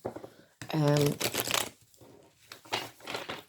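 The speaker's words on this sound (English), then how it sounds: "I have already shuffled these, but I'll do them again" A brief burst of papery, crackling tarot card shuffling, followed by quieter handling sounds, with a person speaking nearby.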